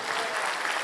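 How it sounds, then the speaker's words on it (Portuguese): Applause from a church congregation during a Portuguese-language worship service, a dense, steady wash of many hands clapping together, loud and continuous for the full short moment. "Então dê uma salva de palmas para o Senhor."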